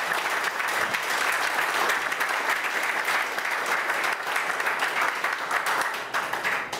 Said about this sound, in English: Let's give the Elliott Company a round of applause.